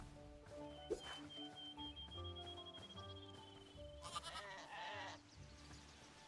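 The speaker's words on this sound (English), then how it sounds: "Is that a tiny little baby sheep running away from me?" A small baby sheep bleats in the Hytale game, a few short wavering calls amid soft ambient game music and environmental sound.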